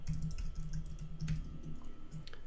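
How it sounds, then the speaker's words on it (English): An email address being typed on a computer keyboard: a quiet, steady run of soft key clicks, close by, with faint room hum. "type in my email"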